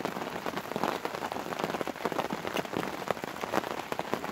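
Steady rain patters on the fabric of a fishing bivvy, a dense, even hiss of close drops with scattered louder taps, continuous and unbroken throughout.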